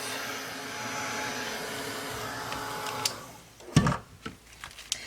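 A heat tool or dryer blowing steadily over an art journal page worked with masks and stencils, a continuous close whooshing hum that cuts off partway, followed by a few light handling knocks.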